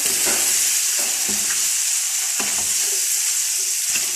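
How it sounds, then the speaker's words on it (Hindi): Chickpeas are stirred into a spice masala frying in a pan, giving a loud, steady sizzle with repeated scraping strokes of a spoon at close range and no talking. "अब हम इसके अंदर चने ऐड करेंगे। अच्छे तरीके से मिक्स कर लेंगे"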